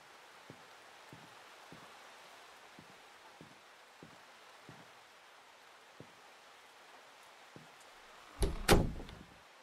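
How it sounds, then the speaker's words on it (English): A soft, steady hiss of rain in a horror video game with faint regular drips or taps, ending in a sudden louder burst of noise. "Why is the rain so loud?"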